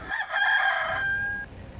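A single loud rooster crow rings out close by, rising and then holding a long drawn-out note before it breaks off, heard alone and clear.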